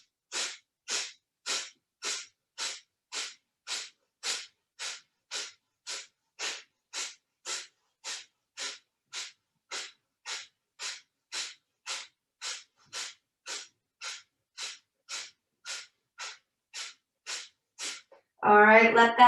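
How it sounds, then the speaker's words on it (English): About thirty quick, sharp nasal exhalations in a steady, even rhythm during a yoga breathing exercise, close and clear against silence, followed by a short burst of speech at the end. "Inhale, and then exhale, fast and sharp."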